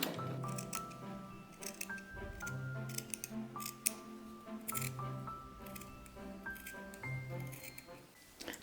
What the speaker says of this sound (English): I'm going to start cutting the rest of the pattern pieces.